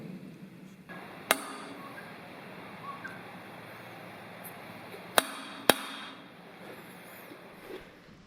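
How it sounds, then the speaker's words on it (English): Three sharp, separate metallic taps from a hammer striking a center punch on metal, marking a hole for drilling in a DIY heavy-duty hatch for an ex-Army Unimog expedition truck; the first is isolated, the last two come close together over quiet background hiss. "now Patrick's getting this center punch, and we'll punch right in the middle of this little circle"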